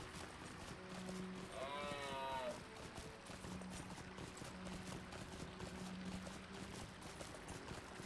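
Horse in the Lord of the Rings Online video game giving a whinnying neigh with a rising, wavering pitch, over soft hoof clatter and a faint game soundtrack, with someone speaking at times.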